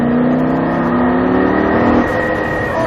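A Lamborghini LP 560 V10 pulls hard at full throttle on a track session, its loud, close engine note rising steadily in pitch before a quick gear change near the end, with no voices.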